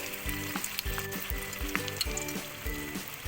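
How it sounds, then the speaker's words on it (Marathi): Methi (fenugreek leaf) bhaji fritters frying in hot oil, giving a loud, crackling sizzle with bubbling pops, while a faint rhythmic musical tone plays in the background. "हे पहा आपलं तेल तापलेलं आहे आता आपण ते भजी तळून घेऊया"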